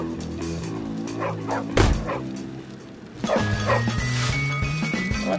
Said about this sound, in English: There go the dog.